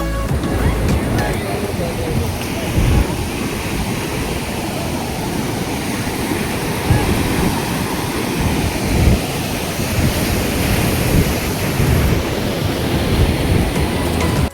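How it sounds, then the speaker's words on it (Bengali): Sea waves surge and break steadily along Puri beach at dusk on a rough day, a loud continuous roar of surf with wind buffeting the microphone throughout. "আজ সমুদ্রের অনেক বেশি ঢেউ"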